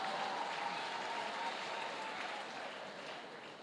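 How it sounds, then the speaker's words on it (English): An audience at a Kampala University graduation ceremony breaks into applause, a dense, steady wash of clapping that fades slightly toward the end. "I expected you to clap."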